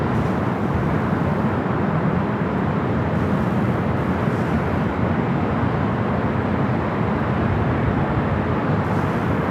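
A Singapore Airlines Boeing 777-300ER jet bound for Tokyo Narita roars at LAX, a broad, sustained rumble of engine noise at steady loudness without talk.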